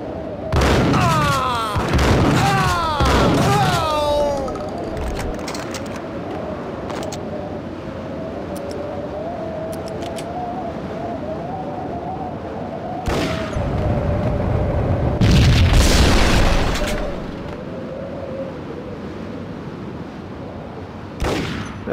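Gunfire and explosions in the Max Payne video game during a hotel shootout, loud bursts early on followed by a sustained rumbling tone, with more heavy blasts around the middle and near the end.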